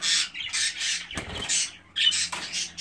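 Crested albino female budgerigars chirp and squawk in quick bursts, a close, lively series of bright calls with brief gaps and a soft rustle partway through.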